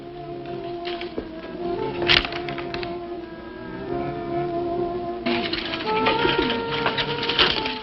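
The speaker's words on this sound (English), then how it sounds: "so that's where the bird came from" Birds coo and flutter in a horror film scene, the calls repeating under a dark ambient bed, with a sharp crack partway through and a voice talking at times.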